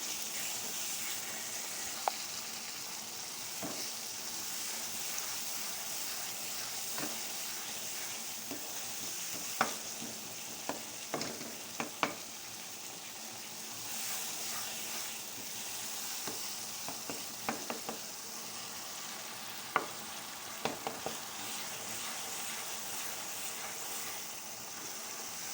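Eggplant and potatoes frying in a pan with black pepper, a steady soft sizzle punctuated by occasional clicks and scrapes of stirring.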